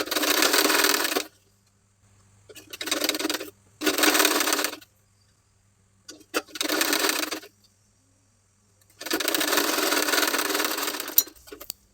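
A sewing machine stitches a cut fabric border onto the pleated part of a sleeve, running in loud bursts of steady whirring separated by short pauses, with no one talking.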